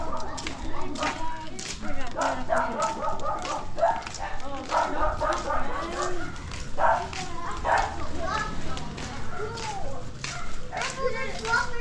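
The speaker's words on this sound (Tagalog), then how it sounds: "May aso dyan." A dog barks intermittently on a street in Agan East Housing Area, Santa Cruz, Koronadal City, partly buried under people talking and children's voices nearby.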